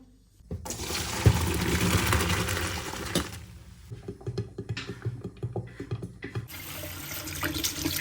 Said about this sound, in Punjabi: ਆਪਾਂ ਨੇ ਥੋੜਾ ਠੰਡਾ ਪਾਣੀ ਪਾ ਕੇ ਰੱਖ ਦੇਣਾ ਇਹਨੂੰ